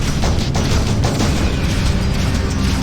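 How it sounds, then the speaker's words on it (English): Gunfire and explosions from space combat in the Freelancer game: a dense, loud, continuous barrage of booms and rumbling blasts with no pauses. "Ooh, so much gunfire."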